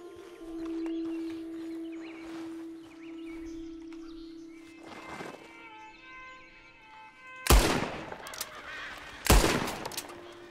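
Two loud revolver shots fired in Red Dead Redemption during a roleplay session, each a sharp broadband crack with a short tail, spaced about two seconds apart after a stretch of quieter ambient game sound and a steady tone.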